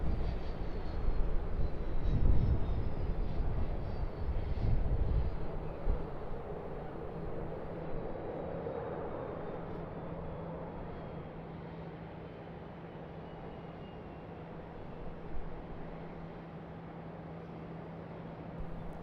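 Airliner taxiing at Sydney Airport toward runway 34 right: a steady jet engine rumble and whine at moderate distance, louder at first and then easing into a low constant drone.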